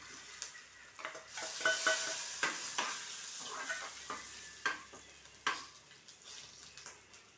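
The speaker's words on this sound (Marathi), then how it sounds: "कांद्याच्या आधी मी हे जे सुके मसाले आहे ते टाकून देणार आहे" Dry spices and coriander seeds sizzle in a hot pan for dum aloo, with a steady frying hiss broken by repeated scraping stir strokes of a utensil against the metal, close and fairly quiet, no voices.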